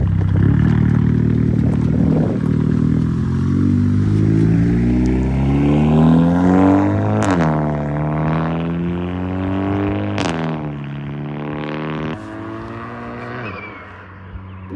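A big-turbo MK6 Volkswagen GLI pulls hard past a listener outside, its engine note climbing loud through several gears with sharp shift breaks, then fading slightly as it moves off.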